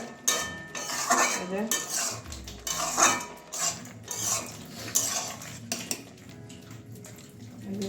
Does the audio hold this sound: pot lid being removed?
yes